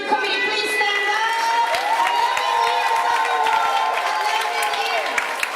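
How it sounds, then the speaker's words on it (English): Audience at a community event for International Women's Month cheering and clapping for the steering committee, a sustained crowd roar with whoops and a voice rising over the applause throughout. "I'd love for you all to please make sure you clap for the steering committee."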